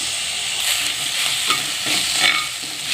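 Chopped onions with ginger garlic paste fry in a little oil, a close, continuous sizzle with brief stirring scrapes over a few seconds.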